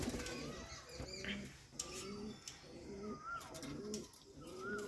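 Pigeons cooing repeatedly in a steady rhythm, close by, during a turmeric bath on a hot summer day, with faint splashes and background noise but no talking.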